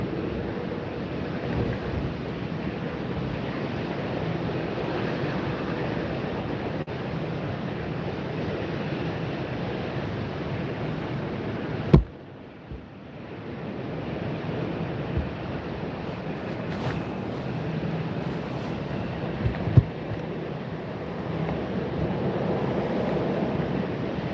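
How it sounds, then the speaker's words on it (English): Strong wind blows at Tampa airport on a windy Sunday, a steady loud rushing roar across the whole stretch, with a brief sharp bump midway and a short dip before the gusting resumes. "it is some interesting weather that we're having here, just a lot of wind"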